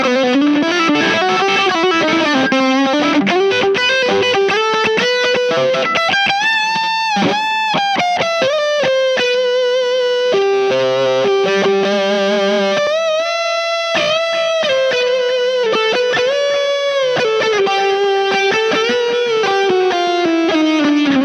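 Electric guitar played through a HangmanFX Lord GermFet Dual Overdrive pedal, a loud, saturated distorted tone with sustained notes and shifting melodic phrases, continuous and upfront with no talking.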